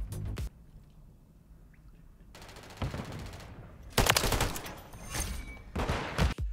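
Rapid gunfire in Call of Duty: Modern Warfare 3 (2023), shot through a small gap in a wall from outside a hall; sharp bursts come in several separate volleys amid quieter in-game ambience.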